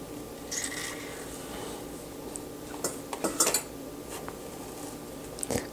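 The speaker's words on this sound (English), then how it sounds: "Cutting the spaghetti squash in half is probably one of the most challenging aspects of this meal" A knife slicing a cooked spaghetti squash in half on a kitchen surface, with soft scraping and a few sharp clinks of the blade against the board or plate, loudest near the end, no talking.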